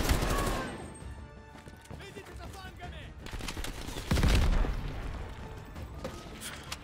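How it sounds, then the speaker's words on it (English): Gunfire in a video game, bursts of shots with a heavier boom near the four-second mark, set against game background noise and some talking. "Who's taking shots at me?"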